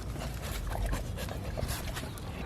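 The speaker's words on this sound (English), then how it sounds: "I'm busy fighting with this dog with one hand because he's just all over me" A dog whimpers and pants right up close, eager and restless, in a garage beside an R32 GT-R, a continuous breathy snuffling with small whines and no talking.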